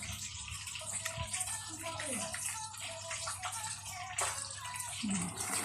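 Running water splashes steadily as hands are washed under a tap, close and continuous, with voices talking over it.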